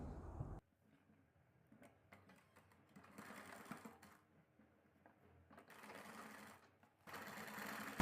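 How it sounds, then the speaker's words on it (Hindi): A domestic sewing machine runs in short stitching bursts along a marked margin on a collar, with quiet pauses in between and no talking. "जो हमारे मार्जिन पर मार्क लगा हुआ है बस उसी पर ही हम अपने सिलाई लगाना शुरू करेंगे।"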